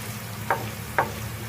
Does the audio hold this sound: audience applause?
no